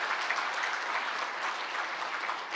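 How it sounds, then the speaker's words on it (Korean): A church congregation claps during a Sunday worship service to welcome a newcomer, with sustained, even applause from many hands spread through the room and no speech over it. "우리 큰 박수로 우리 환영하겠습니다"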